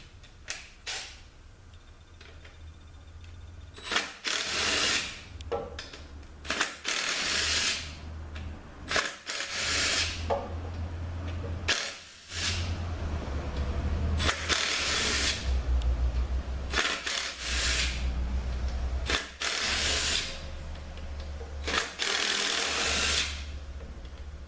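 Ratchet work on the T50 bolts of a ZF8HP90 transmission pan, repeated bursts of clicking and creaking mechanical strokes with short pauses between, close and clear over a steady low hum.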